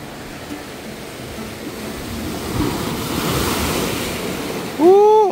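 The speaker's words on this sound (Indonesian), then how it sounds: "Ombaknya." Ocean waves break on a beach at Lhok Mata Ie, Aceh, a continuous wash of surf swelling and easing under gusty wind, with a voice rising briefly at the end.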